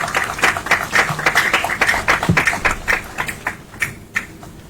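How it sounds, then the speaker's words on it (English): An audience at a youth democracy forum breaks into applause, a close crowd of overlapping claps that stays fairly steady before thinning out into a few scattered final claps. "Let's give another round of applause."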